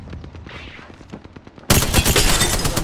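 Rapid automatic gunfire in a video game: a steady stream of evenly spaced shots, quieter and more distant at first, then abruptly much louder and closer, continuing as a dense rattling burst.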